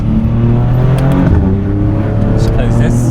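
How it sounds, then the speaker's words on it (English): A BMW G87 M2 with an Eisenmann Race full exhaust, valves open in Sport Plus, rumbles loudly and steadily at close range with a throaty tone, rising briefly as the revs lift. "So this is in Sport Plus and the valves are open. Got quite a throaty tone to it."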